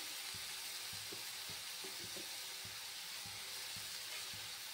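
Potatoes frying in a pan for an Assamese mushroom recipe give a steady, quiet sizzle, with soft periodic taps of stirring mixed in. No one speaks.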